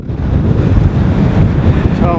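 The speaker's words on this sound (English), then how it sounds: "Getting a bit windy now." Strong wind buffets the microphone in a loud, low rumbling roar while sea fishing at Fleetwood, with a faint wash of water beneath it.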